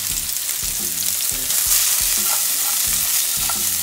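Sliced cooked potatoes and onions frying in a pan, a loud, continuous sizzle with a burst of louder crackle midway and repeated low rhythmic scraping or clatter throughout.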